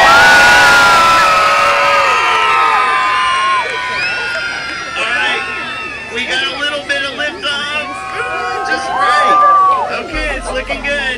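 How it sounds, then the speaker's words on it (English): At the Bauman Harvest Festival, a large crowd of visitors yells and whoops together at full volume, a loud burst of overlapping shouts and cheers that gradually thins into scattered cries. "I need you guys to yell as loud as you can on the count of three"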